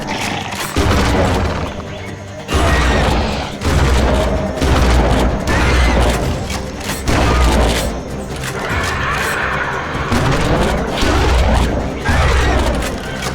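Explosions and gunshots from the dinosaur shooting game Dino Strike, a series of heavy booming blasts and shots at irregular intervals, loud and close, with dense rumbling effects between them.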